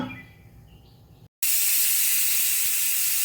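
After a brief silence, a pressure cooker boiling carrot-tomato rasam releases a loud, steady rush of hissing steam that continues unbroken to the end.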